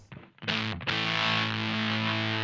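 An electric guitar runs through a Supro Drive overdrive pedal, playing a few picked notes and then a loud, sustained, fuzzy distorted chord that rings out on its own.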